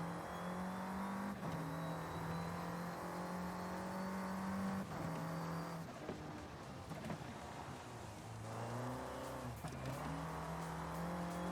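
A race car engine in Forza Horizon 5 revs and climbs through the gears with a whining, rising drone that dips at each shift and swells again under throttle, steady and loud without speech.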